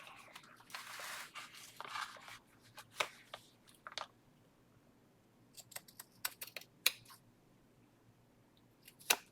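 Scissors snip through a piece of lace in a quiet room, a cluster of crisp cuts early on, then several separate sharp snips spaced out across the rest, close and fairly soft.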